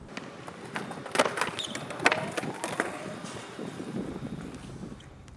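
A skateboard rolls and snaps through repeated heelflip attempts outdoors, with sharp clacks of the tail and board landing at irregular intervals over a steady rolling rumble and light wind.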